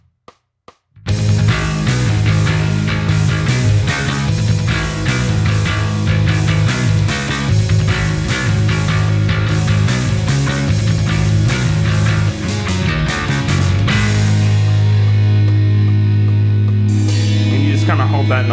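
Guitar plays the final section of a Black Mesa game song, a loud, dense, continuous passage that ends on a long held note.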